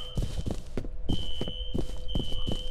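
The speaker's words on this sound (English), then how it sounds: "let's go check out what's causing the fire alarm" A steady electronic tone from a fire alarm in the F.E.A.R. video game rings on and off under heavy, rhythmic footsteps running through a building.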